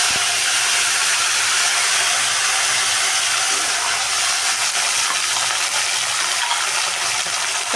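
Curry leaves crackling in hot oil with fennel seeds for tomato rice, a loud, even sizzling hiss that holds steady throughout with no talking.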